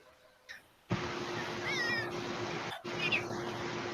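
A cat meows clearly in a tabletop horror game session, a short call near the start, then a louder, wavering meow and a final cry over steady background ambience.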